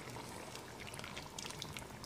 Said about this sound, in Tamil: நம்ம அரைச்ச பேஸ்ட்டை குழம்புல ஊற்றிடலாம்.